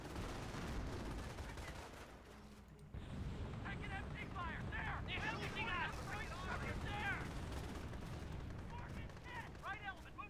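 A registered artillery barrage in Company of Heroes pounds a command point, with heavy rumbling booms and scattered gunfire under busy battlefield noise, faint overall, while voices chatter throughout.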